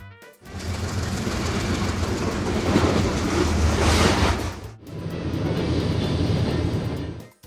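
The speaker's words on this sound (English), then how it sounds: "Commuter train." A commuter train rushes by with a broad roaring clatter, loud and close, briefly dropping off before a second steady stretch of rumbling.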